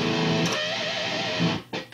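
An electric guitar with a heavy distorted tone plays sustained inverted barre chords that walk downward, loud and continuous, with a brief break near the end.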